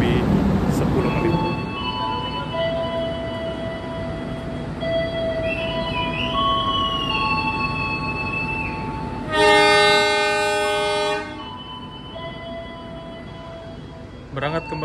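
A long-distance passenger train on the Jakarta–Banyuwangi run pulls out of Cirebon station in Indonesia. A steady rolling rumble and tonal hum continue throughout, broken by a loud, sustained horn blast near the middle.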